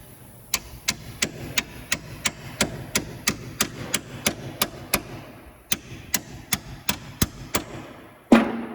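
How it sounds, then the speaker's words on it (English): Repeated hammer blows drive a socket over a rusted cotter pin on a 2012 Toyota Matrix front wheel hub, a steady run of about twenty sharp metallic strikes, close and loud, with a brief pause midway. "I just go ahead and put a socket right over top of that and beat that on there"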